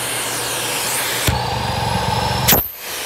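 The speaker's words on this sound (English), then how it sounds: "watch what happens when I turn the vacuum on" A Miele C3 canister vacuum cleaner with an empty bag runs on low suction, giving a steady loud whine and rush. The pitch shifts abruptly twice as the motor speed changes.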